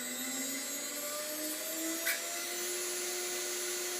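A Chinese-made 6090GZ CNC router spindle set to 20,000 runs up with a steady, close high-pitched whine whose tones slowly rise, carrying minor bearing noise and one brief tick partway through; no talk.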